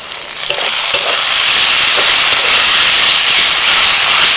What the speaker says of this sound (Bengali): আদা রসুন কাঁচা লঙ্কাটা পেঁয়াজের সাথে একটু ভেজে নেব